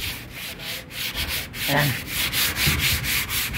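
Sandpaper scrapes rust off a metal gutter in quick repeated back-and-forth strokes, loud and close, with a short spoken word partway through.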